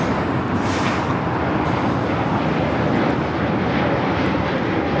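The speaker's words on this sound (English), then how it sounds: "we got planes out there somewhere. I hear them." Airplanes flying near LAX in fog: a steady, loud, broadband jet engine roar filling the whole stretch without pause, heard alone with no talking.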